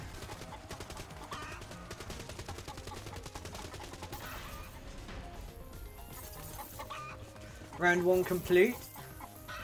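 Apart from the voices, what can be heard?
chickens clucking in video game Dead Ops Arcade 2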